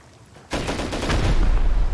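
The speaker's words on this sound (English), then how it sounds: "I hit him with a rocket." A rocket launches and hits a player in the survival game Rust during a raid: quiet at first, then a sudden loud blast that swells into a sustained roaring rush with no talking.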